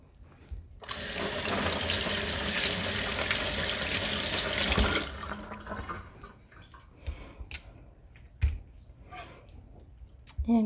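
An avocado being washed under a running kitchen tap, water gushing steadily and loudly for about four seconds before it stops, followed by scattered clicks, drips and small handling knocks.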